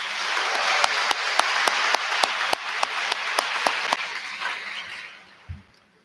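Audience applause at a school awards and scholarship ceremony, a dense wash of clapping with a few sharp louder claps standing out, tapering off and falling quiet near the end.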